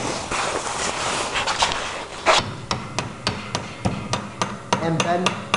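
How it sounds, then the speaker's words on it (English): Hammer blows bending a drilled metal angle bracket clamped in a vise for a hexapod servo mount, a dense scuffing flurry at first, then a steady series of sharp, close metallic strikes. "and take a hammer"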